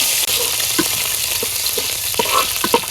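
Shrimp fry in hot oil in a wok with a dense, constant sizzle, broken by scattered scraping and clinking from stirring.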